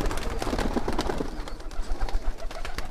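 Gajra pigeons coo softly in a short rhythmic sequence amid a busy, noisy background.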